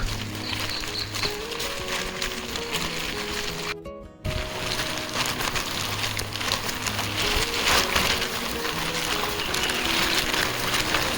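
Steady monsoon rain falls outdoors in the Konkan countryside during a mushroom-foraging outing, a dense, continuous hiss lasting the whole stretch with a brief dropout near the middle, while soft melodic tones run underneath.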